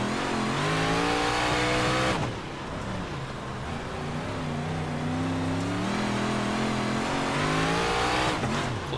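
Dirt big block modified race cars run at Kokomo Raceway in the iRacing sim, their engines roaring loud and steady. A brief cut interrupts the sound before the pitch climbs again as the cars accelerate.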